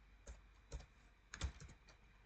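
Keys tapped on a computer keyboard while writing Python code: a few short, soft clicks in small irregular bursts, close and quiet, with no talking.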